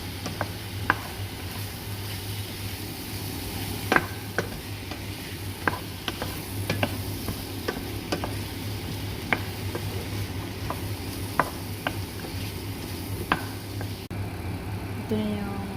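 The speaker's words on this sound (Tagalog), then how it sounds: "Halo-halo lang." Zucchini (marrow) fries in a pan, Pakistani style, while a spoon stirs it, giving a steady soft sizzle with sharp scraping clicks scattered irregularly throughout, close and moderately loud, with no talk.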